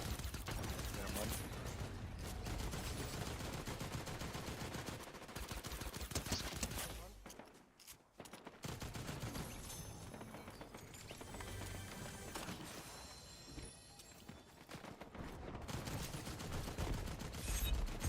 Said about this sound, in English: Who's shooting from behind?